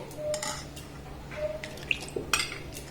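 A spoon scrapes and clinks against a pot as a custard powder mixture is stirred into kulfi milk, with light intermittent metallic taps and scrapes at moderate distance.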